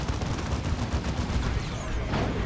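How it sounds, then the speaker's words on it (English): Rapid side-cannon gunfire from units in a Dawn of War 2: Retribution 2v2 real-time strategy battle, a dense, continuous burst of loud overlapping shots filling the whole stretch. "Apothecary being shot to shreds by those side cannons"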